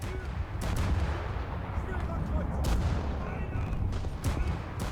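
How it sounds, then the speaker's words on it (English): Naval gunfire in War Thunder, a battleship exchanging shots with US cruisers: a dense, continuous rumble of heavy cannon blasts and booms, with several sharper reports standing out near the start, middle and end. "Get some shots out at the Des Moines."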